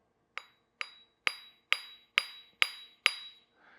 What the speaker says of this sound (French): Prenez votre marteau et vous venez taper très légèrement sur l'un des coins.